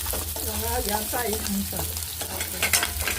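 Onion and curry leaves frying in a pan while being stirred, a steady sizzle with scraping stir strokes close up, alone without talk.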